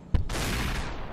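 A single shotgun blast fired in the video game SUPERHOT, a sharp loud crack followed by a long bright roaring tail that sustains and slowly fades.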